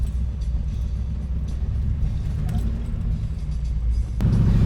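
A 1978 Pontiac Firebird with a built 350 engine drives at night, a steady low rumble heard from inside the car that grows slightly louder near the end.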